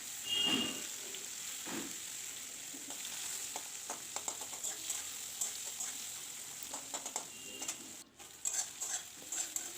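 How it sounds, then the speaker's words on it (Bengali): Chopped onion with green chilli fries quietly in a pan, a soft sizzle broken by scraping stirs and light clinks of a spatula, fairly close and low in level. "পেঁয়াজটা দেখুন হালকা করে ভাজা হয়ে গেছে"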